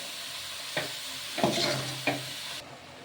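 Beetroot frying in a pan with peas, salt and turmeric, stirred with a spatula: a steady sizzle broken by three scraping strokes, close and alone with no talk.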